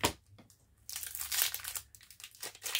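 Plastic wrapping around a pack of 3D playing cards crinkles and tears as it is opened, bursts of sharp crackling and rustling close by, alone and without talk.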